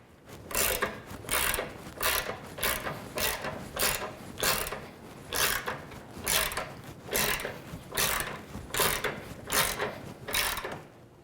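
A jack under a 2020 Can-Am Spyder RT Limited clicks in a steady ratcheting rhythm, about a dozen evenly spaced pumps, close and fairly quiet, as it lifts the machine on plywood.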